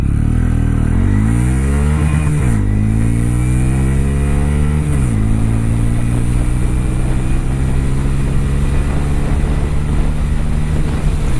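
Honda Hornet 125 motorcycle accelerating hard up through the gears, loud and close engine revs rising in pitch with two quick dips at gear shifts, then holding a steady high drone with wind noise.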